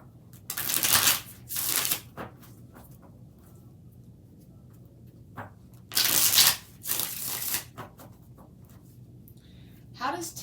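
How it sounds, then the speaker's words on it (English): Tarot cards being shuffled in several quick riffling bursts, close and crisp, separated by short pauses with quiet handling noises between. "5 more shuffles."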